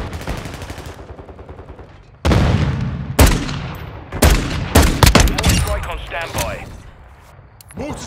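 Gunshots in Call of Duty Modern Warfare 2, loud sharp cracks and short bursts of automatic fire in close succession from a quiet start, with radio voices talking between shots.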